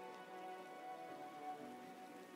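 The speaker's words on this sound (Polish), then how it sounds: "Ale leje." Heavy rain pours steadily in The Witcher (2007) video game, a dense, even wash of falling water with no voices.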